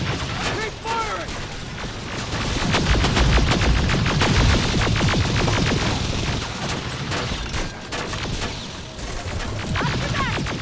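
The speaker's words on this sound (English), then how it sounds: "Keep firing!" Dense video-game gunfire in Terminator Resistance: rapid bursts of automatic weapons and scattered crashes form a continuous loud barrage, with shouted voices mixed in throughout.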